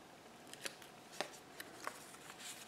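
Scissors trimming paper pieces for an everyday collage journal, heard as a few faint, sharp snips spaced irregularly over a quiet room background.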